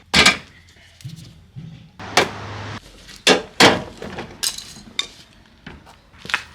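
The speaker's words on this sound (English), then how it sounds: "It's not going to cooperate, we use force." Metal clanks, bangs and scrapes ring out in sharp irregular bursts as a bumper is forced loose on a Ford AU Falcon, with one sustained grinding scrape in the middle, close and fairly loud, with no talking.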